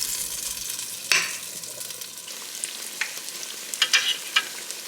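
A whisked egg mixture sizzles in a frying pan, a constant hiss broken by a few scraping turns of a utensil, close up and with no one speaking.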